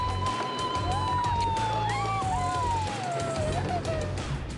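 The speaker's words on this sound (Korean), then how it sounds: "시원하게 달리다 보면 절로 나오는 함성." Excited shouts and whoops from riders on gravity-powered luge carts in Hongseong, rising and falling over a steady rolling rumble of wheels on the track.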